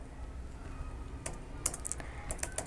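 Code being typed on a computer keyboard while building a React friend-list project: a few scattered keystrokes, then a quicker run of close, crisp clicks over a low steady background hum.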